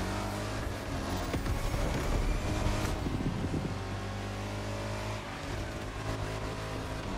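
In The Crew Motorfest racing game, a car engine drones and revs continuously while ramming through traffic, a dense loud roar with wind rush and a few impacts, no voices.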